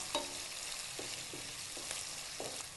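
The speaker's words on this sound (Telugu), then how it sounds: "ఈ ఉల్లిపాయ ముక్కల్ని కూడా ఆయిల్లో వేసుకోవాలి" Onion pieces fry in oil for a Telugu small-onion pulusu, a soft steady sizzle with a few scattered light clinks of a spoon against the pan, fairly quiet and without speech.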